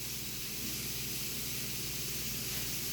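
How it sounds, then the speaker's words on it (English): Steady, loud sizzling hiss of steak frying in a hot pan, continuous without pause and no voices. "You can hear it sizzling away."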